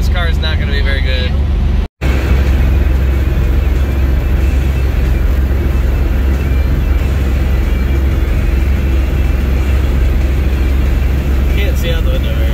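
A 1971 Plymouth Valiant with a 5.2L engine driving through rain and slush, a loud continuous road and engine roar from inside the car, briefly cut out near the start, with faint talk under it.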